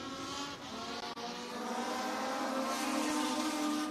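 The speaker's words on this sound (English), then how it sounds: "Get them up through the gears, send them off into turns 1 and 2, side by side" Legends race cars accelerating together at Maquoketa Speedway during a heat race, a steady, loud blend of engine drones climbing in pitch as the pack goes up through the gears, with a brief dip near the start.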